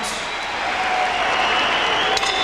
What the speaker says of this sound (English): they both deserve a round of applause